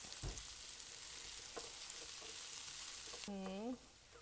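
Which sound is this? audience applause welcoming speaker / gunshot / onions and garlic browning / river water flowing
onions and garlic browning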